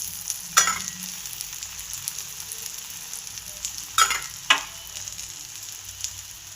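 Dhapate flatbread fries on a pan over low flame with oil added around the sides, giving a faint, even sizzle punctuated by a few sharp scraping bursts from a spatula.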